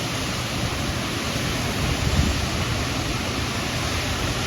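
Typhoon wind and rain at signal number 4 in Ilocos Norte pour down as a dense, steady hiss, with a slight swell midway and no voices.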